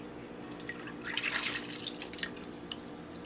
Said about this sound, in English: measure my milk into here